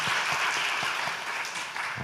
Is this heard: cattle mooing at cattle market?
no